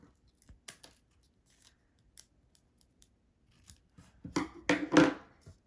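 Scissors cut a curve in origami paper for a butterfly: a few faint, sparse snips at first, then a louder cluster of crisp close cuts near the end.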